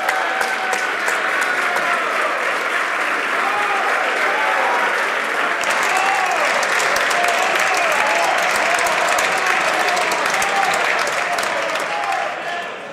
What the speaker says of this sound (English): I've asked members before to hold off on their applause until the members finish putting the question